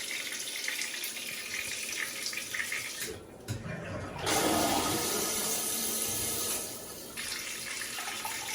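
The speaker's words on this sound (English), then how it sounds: "I like the power flush feature in there too as well" An Amazon bidet smart toilet with a power flush feature flushes, a rushing surge of water swelling midway and continuing as a steady close wash before tapering off.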